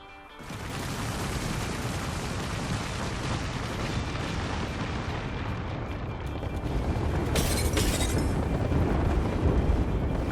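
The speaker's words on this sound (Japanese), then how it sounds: "まずは訓練場の爆破実験から。" Explosions in the Apex Legends training ground video game, a loud continuous roar of blasts and booms that swells stronger toward the end.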